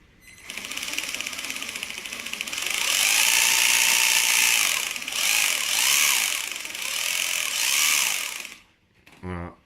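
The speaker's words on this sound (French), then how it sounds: "ce que vous entendez, c'est bel et bien le moteur" A small electric RC car motor with a fault, in a Wltoys A959, whirs and grinds with a rapid ratcheting gear clatter, rising and falling in pitch, loud and close, then stopping abruptly.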